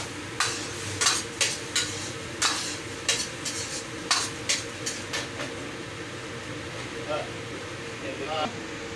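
Vegetables tossed into a pan of seafood Canton sauce, giving a run of repeated scraping stir strokes over a steady low sizzle, fairly close and moderate in loudness.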